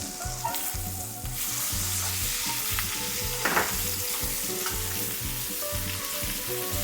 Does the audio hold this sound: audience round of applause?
no